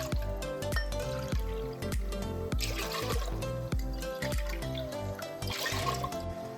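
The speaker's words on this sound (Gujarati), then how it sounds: "આમાં દસ વાટકા આપણે પાણી એડ કરવાનું છે" Ten bowls of water are poured repeatedly into a clay pot in quick splashing bursts with rhythmic drips and gurgles, close up, with a faint music-like tone underneath.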